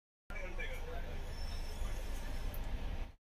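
Inside an Indian passenger train bound for Puri, a steady low rumble with faint high metallic squeals running evenly for about three seconds, with a voice speaking over it.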